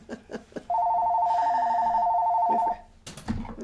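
A telephone rings once in a steady electronic tone lasting about two seconds, clear and fairly close, with scattered knocks and short vocal sounds around it.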